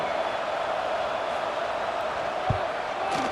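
A College Football 26 stadium crowd roars as a steady broad wash of cheering, with a faint bounce or thump near the end, moderately loud and distant-sounding.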